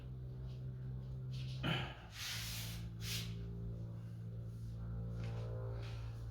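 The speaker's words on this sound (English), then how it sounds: "Take the doors off, put them on the table and spray them flat on the table" Spray gun painting camper van doors laid flat on a table, giving a few short hissing bursts over a low steady hum of a compressor or motor, fairly faint and close.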